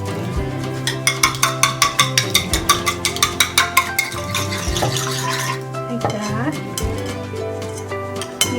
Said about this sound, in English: We need 1 egg. We'll just beat this lightly.